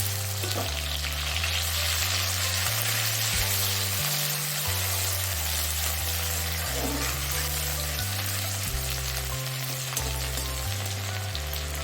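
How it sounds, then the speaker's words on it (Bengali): Garlic sizzles and crackles steadily in hot oil in a pan, a continuous frying hiss under soft background music. "রসুনগুলো হালকা করে ভাজা হয়ে গেলে পেঁয়াজ কুচনো দিয়ে দিই"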